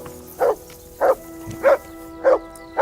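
Mutz, a dog in the video game Kingdom Come Deliverance 2, gives five evenly spaced barks about half a second apart, clear and close over a faint background hum.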